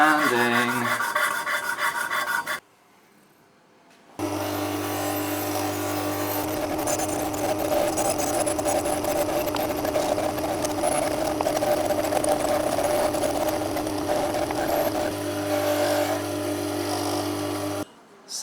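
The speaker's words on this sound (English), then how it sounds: "I'll run it on the polishing wheel" A polishing wheel buffs copper watercooling tubing, a steady whirring motor hum with a continuous rubbing hiss, broken by a brief pause before running on at a constant level.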